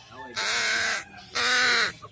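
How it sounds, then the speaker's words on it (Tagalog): A crow gives two loud, harsh caws in the morning in a rural province setting in Lanao del Norte. The calls come close together and sound near. "Morning yung uwak guys."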